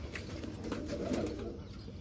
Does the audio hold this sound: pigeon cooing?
yes